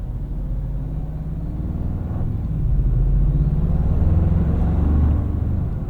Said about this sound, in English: Four-cylinder sounds good too. It's a little bit throatier, more guttural of a tone.